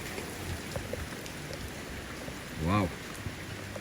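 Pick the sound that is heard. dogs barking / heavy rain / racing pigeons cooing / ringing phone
heavy rain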